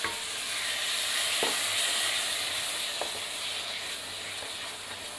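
Ground tomato paste sizzles steadily in hot oil in a kadhai during Paneer Do Pyaza cooking, a continuous close frying hiss with a few soft stirring clinks, no voices.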